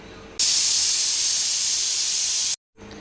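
Peeled tapioca cooks in a pressure cooker as the valve lets out a loud, steady jet of steam hiss for about two seconds, then cuts off abruptly to near silence.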